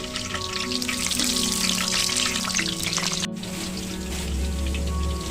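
Chicken pieces frying in hot oil in a pan for Kashmiri chicken biryani, a steady close crackling sizzle with dense spitting and popping, continuous throughout with a low hum underneath.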